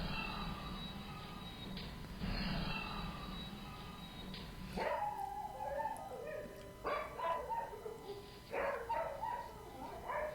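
A family dog barks in a played recording, with several sharp yips and barks in the second half over a muffled, noisy background. A voice talks faintly earlier in the clip.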